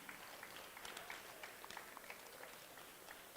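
Applause from a school tournament audience honoring the skills champions: a faint, steady patter of many hands clapping, thin and distant, with no voices over it.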